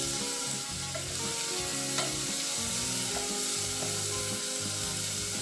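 Garlic, onion and tomato sizzle loudly in a pan, with the steady hiss of frying broken by rhythmic scraping and stirring strokes.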